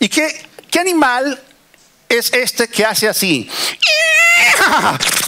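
A voice mimics a horse's neighing, a rising, wavering whinny delivered loudly right after he asks a question in Spanish.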